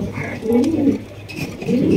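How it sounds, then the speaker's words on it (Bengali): Andalusian racer pigeons coo nearby in low, throaty phrases, one rolling call followed by another, with a faint background hum. "এখানে কিন্তু আরো একজোড়া রেসার কবুতর আছে, অ্যান্ডালুসিয়ান রেসার কবুতর মাশাআল্লাহ।"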